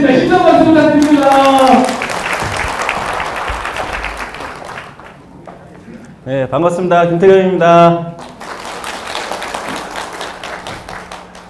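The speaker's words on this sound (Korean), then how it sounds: "힘찬 박수 부탁드립니다." Audience applause welcoming a professor to the stage at a Korean real estate concert, with clapping running under a host's voice, then a brief pause before the speaker greets the crowd over lingering claps.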